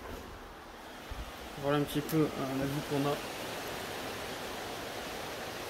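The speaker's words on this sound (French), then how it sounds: "on a une cascade qui est juste ici et une deuxième cascade qui est juste ici" Steady broadband rush of a waterfall and small river just outside a house window, constant and enveloping throughout, with someone speaking over it briefly in the middle.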